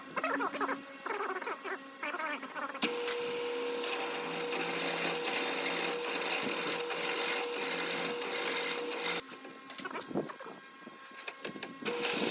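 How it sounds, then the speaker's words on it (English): A small drill whines steadily through metal for several seconds, starting and stopping with brief mechanical clatter around it. "Now I'm going to go ahead and drill through with a small drill and just step up."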